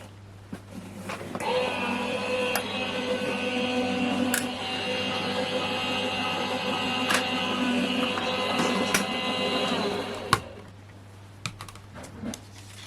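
An electric die-cutting machine for paper crafting runs with a steady mechanical whir and hum for about nine seconds, then stops. A few faint clicks and taps follow in a quiet room.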